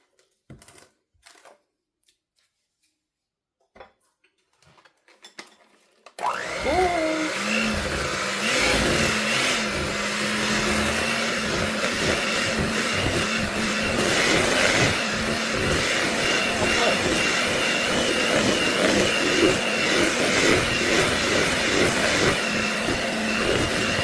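Batter for carrot zucchini cranberry raisin bread being mixed, a few light clinks in near-silence, then a steady whirring hum that runs loud and unbroken to the end.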